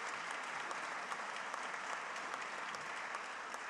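Audience applause during a Rhode Island governor's State of the State address, a steady wash of many hands clapping in a large hall, fairly faint and distant, continuing without a break.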